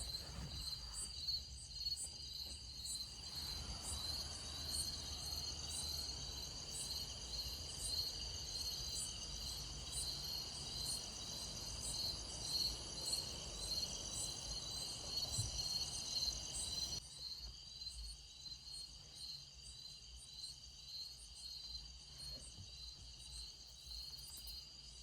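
Crickets chirr in a steady, high, pulsing drone across a quiet jungle night, with faint low rumble beneath and one brief change partway through.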